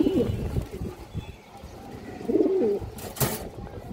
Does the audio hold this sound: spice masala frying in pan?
no